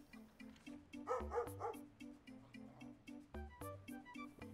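Cartoonish dog barks from the dog-photography video game Pupperazzi, a few short yips over steady looping game music, fairly clear in the mix.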